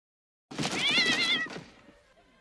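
A cartoon cat lets out one drawn-out meow with a wavering, whiny pitch, loud and close, fading quickly after about a second.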